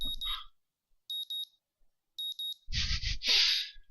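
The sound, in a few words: alarm clock beeping in visual novel game Katawa Shoujo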